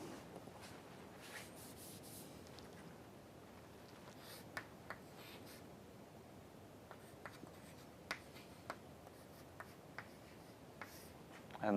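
Chalk or marker writing on a lecture board, faint scratchy strokes with sparse sharp taps at a distance and no talk.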